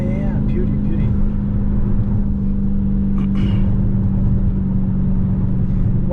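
Dodge Challenger Hellcat engine droning steadily with a strong low rumble inside the car during a night drive, close and continuous, while people talk over it.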